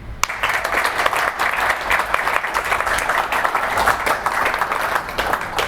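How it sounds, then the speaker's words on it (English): Steady live audience applause follows a panel discussion on rugby and community, a dense, sustained wash of clapping at even loudness throughout, close and full, with no talk over it. "as you can hear from that applause"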